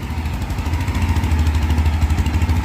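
Mahindra Mojo 300 BS6 motorcycle with a single silencer exhaust, running with a steady, loud, deep throbbing engine note close by, pulsing evenly throughout.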